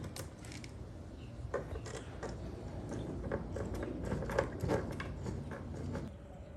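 A metal wing nut is threaded by hand onto a bolt while installing a rear seat delete in a 2016–2024 sixth-generation Camaro, giving faint, irregular small clicks and ticks over a steady low background hum.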